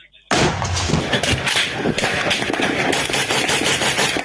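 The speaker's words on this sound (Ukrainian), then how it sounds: "Постріл!" Rapid bursts of loud gunfire crackle continuously for several seconds, sharp and close, with dense overlapping shots, during combat on the outskirts of a town.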